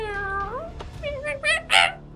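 A cat meows close up, first one long drawn-out call and then a quick run of rising, increasingly loud meows, with no talking.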